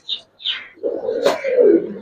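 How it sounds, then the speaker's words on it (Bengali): Pigeons in a loft give soft, throaty coos close by, with a couple of higher chirps first and then a longer rolling coo at moderate loudness. "বুট ঠোঁটের গোল মাথার কবুতর"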